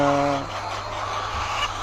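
Venky's BV300 layer hens fill a 3,500-bird egg-laying poultry farm with dense, steady clucking and chatter, while someone talks over the flock near the start.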